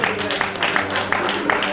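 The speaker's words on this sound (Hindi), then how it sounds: "एक बार जोरदार तालियां बाबा के लिए" Audience applause at a book inauguration ceremony: steady, dense clapping from a crowd that holds at an even level for the whole short stretch, with tonal sound running underneath.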